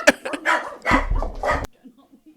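A dog gives several close, sharp barks and yips in quick bursts while a toy is thrown for it during play, then goes quiet.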